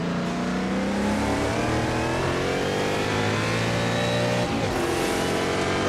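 Historic race car engines, including a Ford GT40 Mark IV, roar at high revs in Assetto Corsa sim racing, with a loud continuous drone whose pitch climbs and shifts as the cars accelerate, with no talk.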